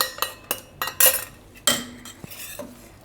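Mango custard being stirred in a pan with a metal spoon, sharp clinks and scrapes against the pan's sides coming in an uneven rhythm, close and fairly loud, with no talking.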